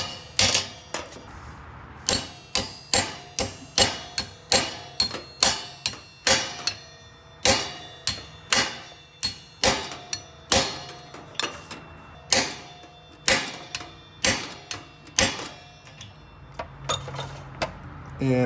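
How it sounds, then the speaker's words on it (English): A socket is hammered onto a water heater dip tube, producing a long run of sharp metallic strikes in an uneven, steady rhythm, close and fairly loud, with short pauses between some blows. "I was gonna try to hammer that dip tube down into the inside of the water heater."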